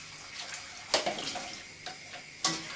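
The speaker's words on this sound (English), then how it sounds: "So just take the stock and pour it in with the lentils." Stock poured into a pot of lentils with bay leaf and thyme, a close, soft splashing trickle with a few sharper clinks and spatters, no voice over it.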